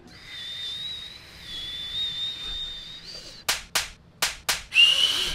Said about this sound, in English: so I taught myself to whistle like that